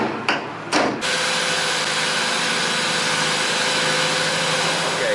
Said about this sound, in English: Jacob here is going to center punch and get the first hole drilled